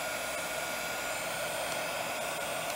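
A heat embossing tool blows a steady, even stream of hot air to melt embossing powder. The hiss is constant and fairly quiet and lasts the whole stretch, with no voices.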